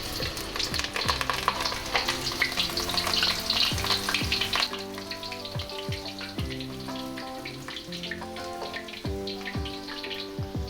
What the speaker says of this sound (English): I'm gonna fry my large spur chili as well as my little garlic